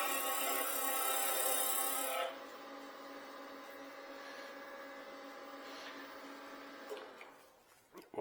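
Wood is shaved on a lathe, a close, steady hissing scrape that runs for about two seconds. The spinning hum carries on more quietly afterwards, with a few small knocks near the end.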